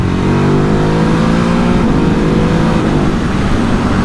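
Ducati Hypermotard 950 SP motorcycle engine revving hard while being ridden, a loud continuous engine roar with rising pitch, heard close and alone.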